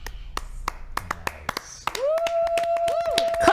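A series of sharp hand claps and taps in an irregular rhythm, followed by a sustained tone from Metal Gear Solid with voices chattering underneath.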